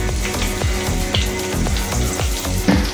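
Mustard seeds and fenugreek sizzle and crackle in hot oil for a fish pickle, a steady close frying hiss with scattered sharp pops throughout and no talking.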